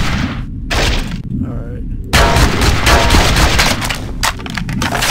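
Rapid gunfire from the player's weapon in the zombie shooter game SAS Zombie Assault 4, loud and dense bursts throughout, mixed with explosive thumps and game effects, with a voice talking at points.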